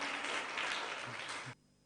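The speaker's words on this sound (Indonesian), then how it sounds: "Wah, tepuk tangan." A brief burst of applause from a church audience, clapping steadily for about a second and a half before cutting off abruptly.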